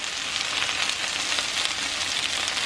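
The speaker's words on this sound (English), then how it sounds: "So this is just a little bit of butter, a little bit of bacon grease, frying up these potatoes." Potatoes and Vidalia onion fry in butter and bacon grease with salt, pepper and onion salt, giving a steady, close, even sizzle and crackle that fills the whole stretch without any talk.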